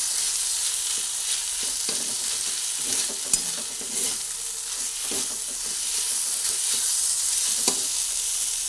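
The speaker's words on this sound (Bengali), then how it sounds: "চালটার সঙ্গে ভালো করে আদাটা একটু নাড়াচাড়া করে নিলেই বেশ একটা সুন্দর সেন্টটা হয়ে যাবে" Rice tossed with ginger and spices in a hot pan gives a steady close sizzle and hiss, broken by occasional spatula scrapes and light knocks as it is stirred.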